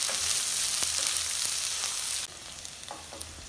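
Ingredients for Punjabi sarson ka saag fry in a pan until browned, giving a steady, close, hissing sizzle that drops noticeably in level partway through and continues more softly, with no talking.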